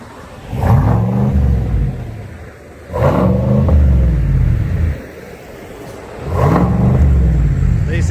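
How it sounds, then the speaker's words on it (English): A Chevy 1500 Silverado pickup with its muffler deleted, parked and rev-limited, gives three deep rumbling revs of about two seconds each, close and loud, separated by short idle pauses. "These things are rev limited in park, so we can only run it to 2500 RPM."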